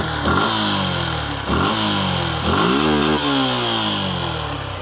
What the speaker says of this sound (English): This is the Gixxer's exhaust note.